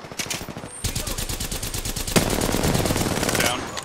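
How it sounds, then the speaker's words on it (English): Rapid automatic gunfire from enemies in the battle royale game Apex Legends, dense and continuous bursts, briefly interrupted near the start and then sustained with a sharp louder shot midway. "The enemies are shooting at me."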